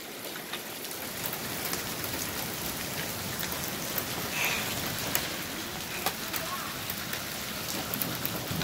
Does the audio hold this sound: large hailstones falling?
yes